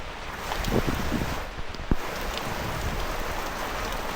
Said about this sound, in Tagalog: Sa paligo sa ulan, guys.